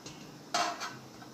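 Two cups of wheat flour are tipped into a large vessel, a single brief metallic clatter of the vessel standing out against quiet room background.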